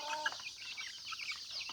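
Free-range hens clucking in short, irregular bursts at close range, with bright chicken calls overlapping through the whole stretch.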